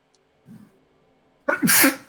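A single sharp sneeze close by, preceded by a soft breath or faint murmur.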